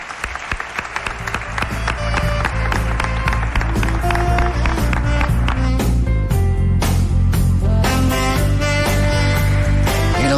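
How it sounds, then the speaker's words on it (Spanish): A theatre audience applauds loudly and continuously, a dense wash of many hands clapping that swells and holds steady throughout. "Os pido un aplauso para ellos"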